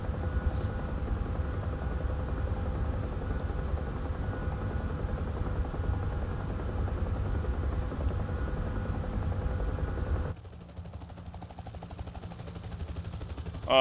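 A steady, thick rotor drone of a Huey helicopter in the DCS flight simulator, with a low engine rumble, fills most of the clip, then drops off abruptly and continues more quietly near the end.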